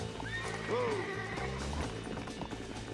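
A horse in the Western video game Red Dead Redemption whinnies loudly once, with clip-clop hooves and game sounds going on around it.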